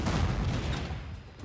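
Cannon fire in the video game Portal Knights, a booming blast followed by a rumbling roll that decays over about a second, heard alone.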